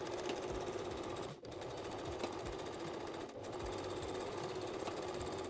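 A sewing machine runs steadily, stitching the back side seams of a reversible bikini bottom in a continuous buzzing drone, briefly pausing twice before resuming at a moderate, even level.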